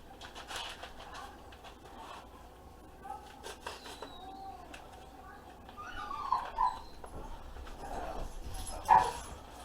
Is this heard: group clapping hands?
no